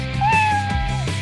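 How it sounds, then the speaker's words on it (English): A single drawn-out cat meow in the Robocar Poli Super Rescue City video game, clear and close, rising then slowly falling in pitch, with quiet game sounds underneath. "Do you hear the cat?"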